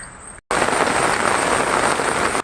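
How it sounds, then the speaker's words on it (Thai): Rain falls steadily in a loud, dense hiss that starts abruptly after a short silence, an unbroken wash of close downpour with no talking. "วันนี้ย่ามาพร้อมฝนนะคะฝนตกทุกวันเลย"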